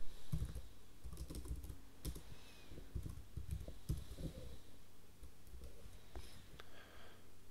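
Fingers typing a title on a computer keyboard, a quick irregular run of close, quiet key clicks with brief pauses between bursts.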